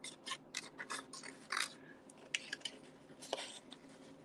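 Small scissors fussy cutting around a stamped paper image, a quiet close run of short snips and paper rustles in an irregular rhythm.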